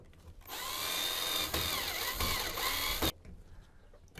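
A power drill whirs for about two and a half seconds while driving 8-32 screws into an electrical lamp box, a steady close whine with slight speed changes before stopping abruptly.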